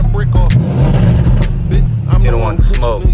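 Mercedes-AMG car fitted with carbon fiber parts, its engine giving short blips and revs close by, with rising and falling tones over a steady low rumble while people talk over it.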